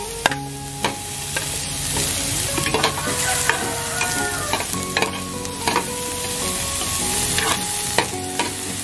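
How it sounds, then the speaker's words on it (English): Onions sauté in a pan with spices for a Filipino ginataang gulay, a steady close sizzle with repeated clinks and scrapes of a utensil stirring throughout. "I will keep sauteing. Next, the onions."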